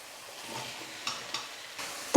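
Chopped tomatoes are stirred into hot oil in a pan for a South Indian side dish, giving a soft sizzle with a few faint scraping stirs and a sharper clack at the end.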